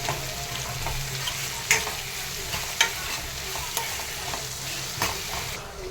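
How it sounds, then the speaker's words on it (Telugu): Onions and green chillies sizzle steadily in hot oil for an egg pulusu, with a few sharp stirring clacks of a spoon against the pan breaking through the continuous frying hiss. "అందుకని ఫస్ట్ ఆనియన్, పచ్చిమిర్చి వేగిద్దాం."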